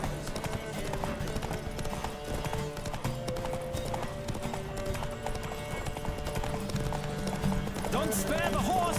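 Horse hooves gallop in a steady clip-clop during a horse race in The Witcher 3 video game, with occasional neighing, running continuously under game music and voices.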